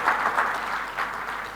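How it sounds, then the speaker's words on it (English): Brief burst of audience applause at a gala and awards ceremony, many hands clapping together at moderate loudness for just over a second. "I think we should give him a round of applause"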